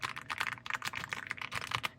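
Fingers type on a new mechanical keyboard with a soft, creamy sound, a steady rapid run of muffled key clacks close up, with no talking.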